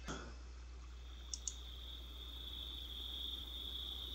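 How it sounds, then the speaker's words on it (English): In the RLCraft video game, a steady high cricket chirp drones on throughout a quiet night scene, with two brief soft clicks early on and no voices. "that cricket sound effect is pretty cool"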